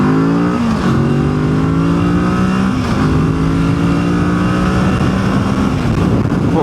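A Kawasaki Z650 motorcycle fitted with a new fully adjustable monoshock is ridden along, its engine giving a loud, continuous droning roar that rises and dips in pitch as the rider changes speed. No talking.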